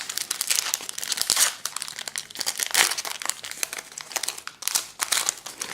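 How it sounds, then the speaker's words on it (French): Plastic wrapper of a Pokémon booster pack crinkling and tearing as it is opened, a steady close-up rustle with sharper crackling bursts throughout, no talking. "C'est le bruit du plastique quand on ouvre le paquet"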